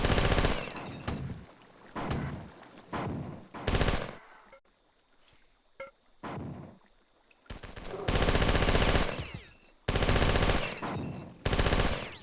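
Bursts of automatic gunfire in the video game Marathon, several loud rapid volleys of a second or two each separated by quieter gaps of ambient hum.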